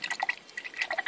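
A watercolor paintbrush being rinsed in a jug of water gives quick, close little splashes and drips, a soft, irregular patter over about a second with no voices.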